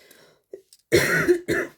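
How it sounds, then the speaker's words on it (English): A person coughs twice in quick succession, close and sharp, after a small throat noise. "And now I've coughed, I don't want to stop."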